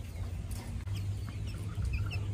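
Chickens clucking softly and close by, with chicks crowding around a duckling during a sand bath, over a steady low rumble of background noise.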